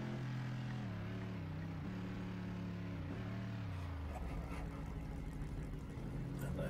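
Race car engine in Assetto Corsa on the Circuit of the Americas, a loud steady drone with harmonic pitch dipping and rising through gear changes and throttle lifts, then rougher rasping as power comes on; no talk over it.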